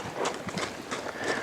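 A horse moves on the lunge line in steady hoofbeats, a soft, even clip-clop rhythm under a continuous background wash.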